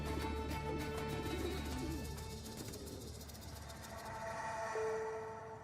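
Pigeons coo from rooftop pigeon towers in Cairo's inner city, soft repeated low calls layered over distant city hum, with a faint higher tone near the end.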